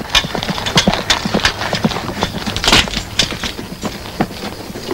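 Horse hooves clip-clop in a busy, rhythmic patter, loud and close, with scattered knocks and shuffling around them.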